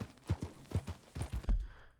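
Horse hooves clip-clopping at a walk in Red Dead Redemption 2, a series of distinct near hoof strikes in an uneven rhythm, fairly quiet, ending in a heavier thud.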